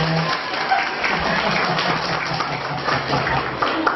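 A room of religious-school teachers gives a short round of applause, steady clapping close by, with voices and light laughter underneath.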